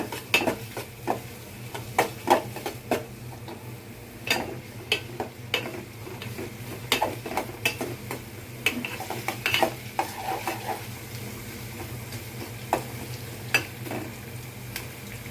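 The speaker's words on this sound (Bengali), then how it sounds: "পেঁয়াজগুলো আমি বাদামি করে ভেজে নিয়েছি।" Chopped onions with a few bay leaves fry in oil in a metal pan. A faint background sizzle runs throughout under repeated sharp clinks and scrapes of a spoon stirring against the pan, in an irregular rhythm.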